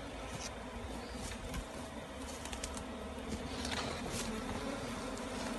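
A dense, continuous buzzing of many honeybees around an open hive and nuc box fills the air, steady and moderately loud, with faint birdsong in the background.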